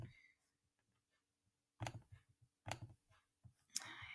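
A computer mouse clicking in a quiet room: three or four sharp, close clicks spaced about a second apart after a near-silent stretch.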